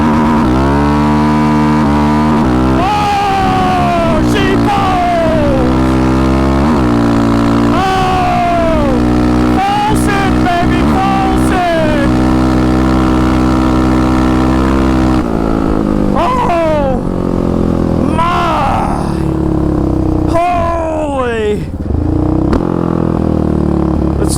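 Polaris 734 Raptor ATV engine at full throttle on sand, a loud continuous roar that climbs and drops through the gears with repeated revving sweeps, very close, with occasional voices over it.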